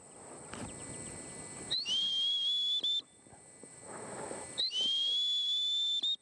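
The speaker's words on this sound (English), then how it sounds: "when I hit that whistle, I want you to stop and look." Two sharp, piercing blasts of a gun dog training whistle, each held about a second, sounding close and loud over quiet outdoor background.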